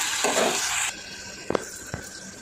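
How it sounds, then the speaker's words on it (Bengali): Ridge gourd and fish frying in a pan, hissing and sizzling steadily before quieting, followed by a couple of soft utensil clicks against the pan. "ভেজে নিচ্ছি।"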